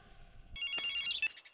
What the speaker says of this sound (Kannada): ನಿಮ್ ಫೋನ್ ಮಾವ.